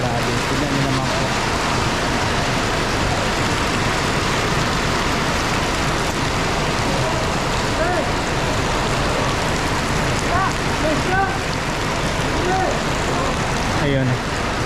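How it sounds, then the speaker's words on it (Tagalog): Heavy rain pours down in a dense, loud, unbroken hiss for the whole stretch, with occasional faint background sounds. "At ang lakas po ng ulan"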